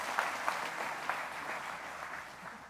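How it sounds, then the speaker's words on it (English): A crowd at a presentation claps in a steady round of applause, a dense patter of many hands with a few sharper individual claps standing out near the start, moderately distant and fairly soft. "give them a round of applause"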